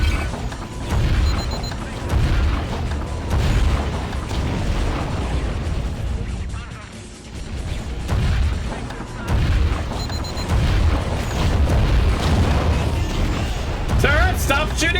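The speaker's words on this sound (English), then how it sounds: "Sir, stop shooting that, please." Weapons fire during underwater combat in the video game AquaNox: repeated heavy booms and bursts ride over a constant deep rumble, with a brief lull midway before the blasts resume close and loud.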